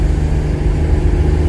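A Buick Grand National's engine drones steadily at close range under acceleration, a low, even mechanical roar with no talking.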